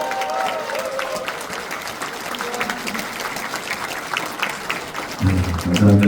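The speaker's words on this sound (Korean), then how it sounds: "큰 박수 부탁드립니다." A large audience at a Korean National Assembly member's constituency report meeting in Cheongju breaks into sustained applause, a dense steady wash of clapping that swells louder near the end, with crowd murmur underneath.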